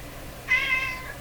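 A cat gives a single short meow, fairly close and clear, rising out of a quiet room background for about half a second.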